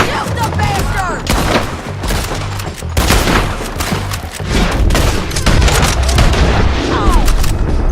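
Rapid volleys of gunfire in the Red Dead Redemption 2 video game, dense overlapping shots and booms crackling continuously with frantic shouting voices mixed throughout.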